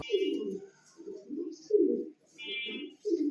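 Turingan pigeons of Pakistani bloodline coo in repeated low, throaty bursts, several calls in a row, close by with no talking.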